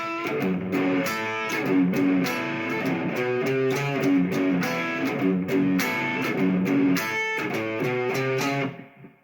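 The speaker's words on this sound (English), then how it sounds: "the first one is a distortion" Electric guitar through a distortion pedal, playing strummed chords and short riffs, loud and continuous before ringing out at the end.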